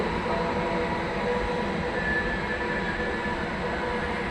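A Slovak passenger train arriving at a station platform in Čadca produces a steady, loud rumble of wheels and cars with faint tonal squeals, continuous throughout with no speech.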